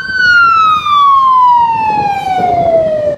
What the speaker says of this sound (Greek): καταφθάνουν 3 πυροσβεστικά οχήματα με επικεφαλής τον αναπτύρωτο του διοικητή της πυροσβεστικής υπηρεσίας Πτολεμαϊδάς